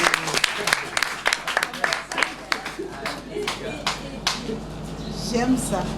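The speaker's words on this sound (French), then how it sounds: "Applaudissez pour elle." A small audience breaks into scattered, uneven clapping, sharp individual claps bunching together and then thinning out, with voices heard among them.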